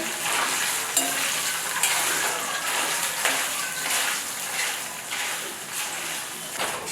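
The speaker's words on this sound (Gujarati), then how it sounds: "પનીરના ટુકડા સારી રીતે ગોલ્ડન બ્રાઉન થાય ત્યાં સુધી આપણે તેને તળવાના છે" Steady, dense sizzling of paneer pieces frying in hot oil until golden brown, with occasional sharper crackles and stirring sounds, continuous and close throughout.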